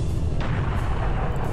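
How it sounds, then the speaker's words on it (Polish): A cannonball is fired in the classic Serious Sam video game at the Great Pyramid level, a loud, dense booming blast that fills the whole moment and rumbles on without a break. "O, był zły strzał kulą, bardzo zły strzał kulą to był"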